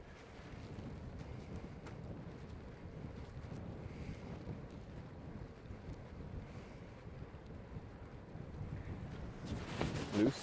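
Steady breezy wind buffets a microphone during a bike ride near Namyang, South Korea, a continuous low rumbling roar that swells slightly toward the end.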